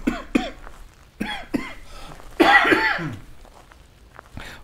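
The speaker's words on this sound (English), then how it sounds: "Fuck this cough, honestly." A person coughs and clears their throat in several harsh, close bursts, with a longer rasping cough fit in the middle and a final short cough.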